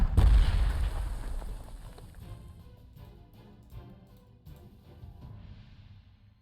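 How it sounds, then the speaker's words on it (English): Artillery fire in Panzer Corps 2 opens with a loud, deep boom that rolls out into a long, fading rumble, followed by fainter distant thuds. "That's artillery, yeah."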